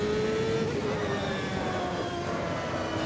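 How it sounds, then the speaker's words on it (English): A car's engine drones steadily in a driving video game, with a thin, falling, almost sci-fi whine as the throttle lifts off. The sound is continuous and fairly loud, with no talk. "And that throttle lift sound. Sounds almost sci-fi-ish."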